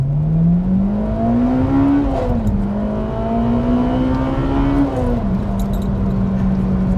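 A Honda Civic Type R engine revs hard and close into its VTEC range, climbing in pitch, dipping at gear shifts, then climbing again in a sustained loud roar.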